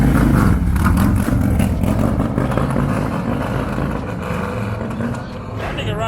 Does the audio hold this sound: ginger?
no